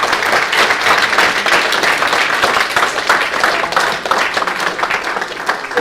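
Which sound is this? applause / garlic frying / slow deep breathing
applause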